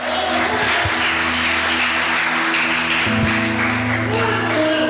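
A congregation at a church service applauding: dense, loud, sustained clapping fills the whole moment, with a few scattered voices mixed into it.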